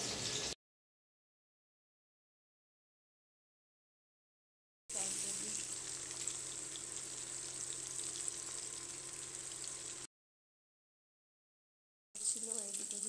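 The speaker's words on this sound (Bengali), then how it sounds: "চলো মাছগুলো আগে ভেজে নিই।" Fresh fish frying in a pan, a steady hissing sizzle in two stretches separated by total silence, heard up close.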